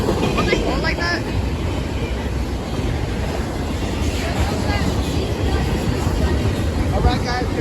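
Freight train loaded with shipping containers rolling past at Fullerton, a continuous loud rumble and clatter of wagons with squeals of wheels, while people talk over it.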